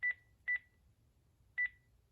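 Keypad button beeps on a Panasonic K-TG4021 cordless phone: three short, clear electronic tones, the first two close together and the third after a pause, heard alone against a faint low hum.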